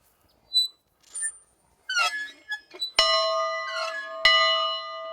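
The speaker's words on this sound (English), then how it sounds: "Kind of a dinner bell." An old dinner bell rings out twice in clear metallic clangs, each leaving a long shimmering decay, after a few faint, scattered background chirps and knocks in a quiet outdoor setting.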